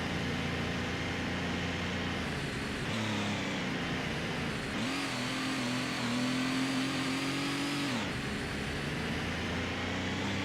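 A Chevrolet Camaro in Gran Turismo revs hard and steadily: a loud, continuous engine roar that climbs in pitch, holds high for a few seconds, then drops back, with no voices.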